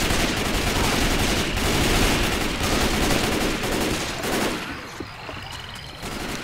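Dense, sustained gunfire in Left 4 Dead 2 in a swamp setting, a loud, continuous barrage of rapid shots that tapers into scattered, quieter reports near the end.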